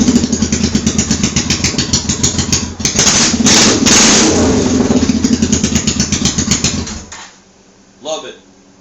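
A bobber motorcycle engine fires up from the start button and runs loud and close for about seven seconds with a steady throbbing idle and brief throttle blips, then cuts out, leaving near-quiet with one short burst.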